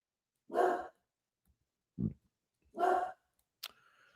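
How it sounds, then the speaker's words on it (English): A 12-year-old dog barks in three separate close, fairly loud bursts spaced over a few seconds, with short silent gaps between them and a sharp brief click near the end. "a fucking 12-year-old dog barking at absolutely nothing right now"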